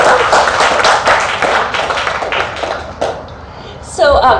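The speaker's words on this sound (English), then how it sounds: "Let's one more round of applause for Professor Spira." An audience claps for Professor Spira after his vegan diet talk at ComFest 2018, giving a loud burst of dense, close applause that thins toward the end as a voice cuts in.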